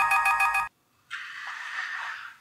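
A telephone rings with a bright electronic trilling burst, then falls silent briefly before a softer, sustained tone follows, close and clear with no voices.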